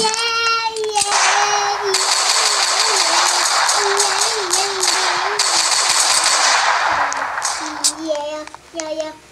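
Rapid gunfire in Roblox Brookhaven rattles in a long, dense burst, with excited children's voices shouting before and after the shooting.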